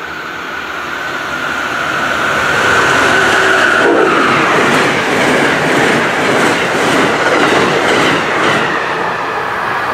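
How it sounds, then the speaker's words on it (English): An Amtrak passenger train, the Cardinal, roars past close by, loud and continuous, with rushing wind and the rhythmic clatter of wheels on the rails. "Amtrak 50, the Cardinal from Chicago, Illinois to New York, New York, would be our next train"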